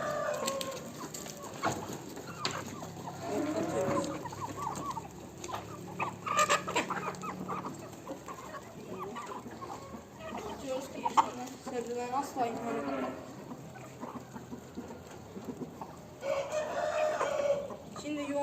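Chickens cluck and a rooster crows in a backyard coop being cleaned and bedded with wood shavings, with people talking throughout over the steady bird calls.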